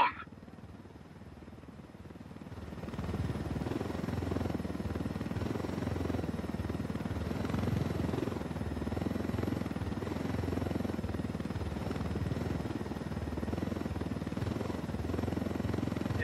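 A helicopter flies steadily close by, its loud, continuous rotor and engine drone rising after a quieter opening couple of seconds and holding for the rest of the stretch, with no talking over it.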